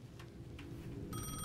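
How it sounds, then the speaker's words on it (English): A payphone rings in the dark game world of Alan Wake 2, its bright, steady metallic bell tone entering near the end over a low, murky ambient rumble. "The payphone at the edge of the plaza was ringing again."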